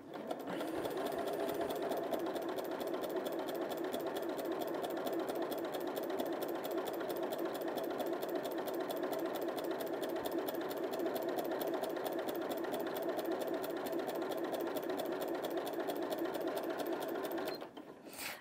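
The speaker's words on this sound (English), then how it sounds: "I'm going to do a standard straight stitch" A Janome 5060 QDC sewing machine runs a standard straight stitch through bulky quilt layers, its needle drive whirring in a fast, even, continuous rhythm at close range, then stopping just before the end.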